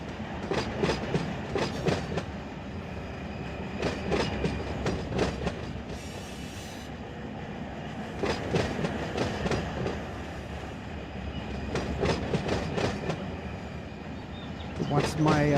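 A train locomotive hauls cars through a rail yard in the Run 8 train simulator: a steady engine rumble with repeated clickety-clack bursts of wheels crossing rail joints, under occasional talk.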